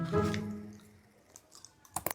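Crispy keripik tempe, fried tempeh chips, being chewed near the mouth, with a dense crunchy burst at the start and a few sharp crackling bites toward the end, no talking.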